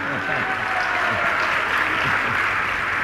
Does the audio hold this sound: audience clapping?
yes